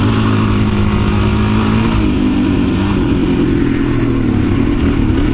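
A dual sport motorcycle accelerates uphill on a trail, its engine droning steadily loud and close throughout with rising harmonic pitch under throttle.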